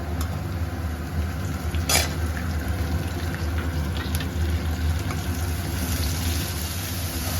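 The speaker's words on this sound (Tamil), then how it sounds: "வெங்காயம் வந்து நல்லா வதக்கிட்டுங்க. நம்ம வந்து கருவேப்பிலை போட்டுக்கிறோம்." Onions and curry leaves sauté in a pan for coconut milk rice, a loud continuous sizzle and hiss close by with a few sharp clicks from stirring.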